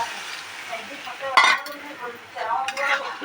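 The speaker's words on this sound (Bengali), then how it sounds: "একটু ভালোভাবে নেড়ে চেড়ে নিতে হবে সুন্দরে কষলাম" Spoon stirring cauliflower and bhetki fish curry in a pan, scraping and clinking against the metal with a light sizzle underneath, a few louder knocks standing out.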